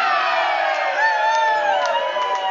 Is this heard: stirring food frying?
no